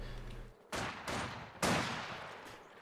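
Three sharp sniper rifle shots in Company of Heroes 2, spaced about half a second apart, each a loud crack with a short echoing decay and no talking.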